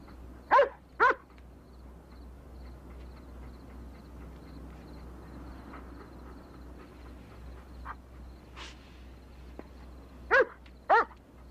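A dog barks in four short bursts, two close together near the start and two more near the end, with long stretches of quiet room tone between them.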